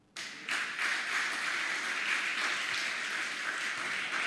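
A church congregation bursts into applause, many hands clapping in a steady, full wash that holds at an even level after a quick start.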